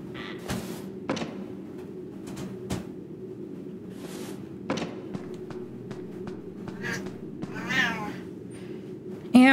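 A house cat meows repeatedly at close range, short calls coming every second or so over a steady low hum, with a louder drawn-out meow near the end.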